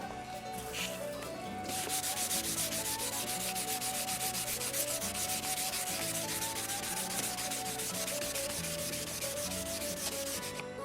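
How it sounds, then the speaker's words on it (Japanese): By hand, 800-grit sandpaper is rubbed over a yellowed plastic car headlight lens in fast, steady back-and-forth strokes, giving a loud, continuous, close scratchy rasp that goes on unbroken for several seconds. "800番があったので800番で削っていきます。"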